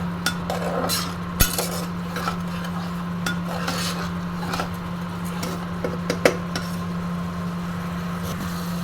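A utensil scraping and stirring potol dolma filling, pointed gourd seeds frying in a pan, with a low steady hum underneath, soft sizzle and a few sharp clinks of metal against the pan.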